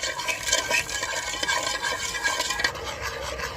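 Sugar melting into syrup in a pan over high heat, stirred continuously, giving a close, bubbling swish and scraping with faint utensil clinks, no talk.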